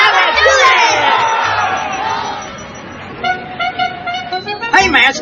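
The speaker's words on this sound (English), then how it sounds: "The crowd is going wild." A cartoon football crowd roars wildly after a touchdown, a loud dense cheer with shouts and a horn-like toot, then fading under chattering voices and squeaky cartoon sounds.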